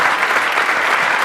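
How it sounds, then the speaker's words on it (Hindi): An audience at an entrepreneurship seminar breaks into steady, dense clapping that fills the whole moment, loud and close, with no voices rising above it. "इस बात पे ताली बनती है।"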